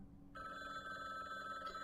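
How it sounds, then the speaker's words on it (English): A telephone rings in the video game Rainswept, a steady electronic ring with a clear tone that starts abruptly after a short silence and sustains evenly at moderate loudness, with no talk over it. "The phone rang."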